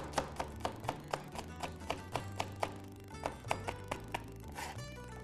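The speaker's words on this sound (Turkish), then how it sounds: "Aynı şekilde şöyle bir minik minik doğrayalım." Onions being finely chopped with a knife on a board in a kitchen, a quick series of crisp, evenly spaced taps close by, fairly quiet with no talk.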